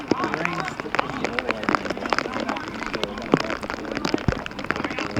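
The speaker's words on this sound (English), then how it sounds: "The rain once again, as it has done intermittently throughout the game," Rain falling during a university football match between Salford and UCLan, heard as a dense, steady patter with many sharp drop taps and clicks throughout, fairly close and loud.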